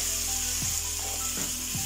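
Banana pieces roast in a pan with a steady close hiss of frying, and a few soft scraping strokes of stirring come through over it.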